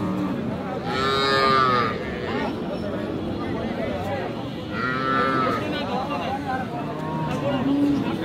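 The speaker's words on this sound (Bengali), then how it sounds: "8 দাঁত বয়সের গাভী" Cattle moo loudly at a crowded cow market in Aftabganj where cows and calves are being sold. Two long, drawn-out moos rise above steady crowd chatter and bargaining voices.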